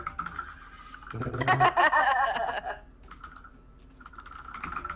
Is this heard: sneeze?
no